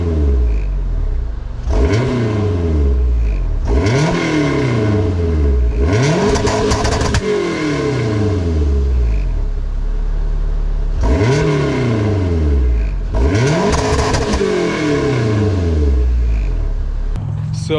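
A turbocharged Honda EG with an H2B engine and its current muffler setup revs hard in a series of about five or six rising sweeps. Each sweep climbs and drops back, loud and close, with no talk.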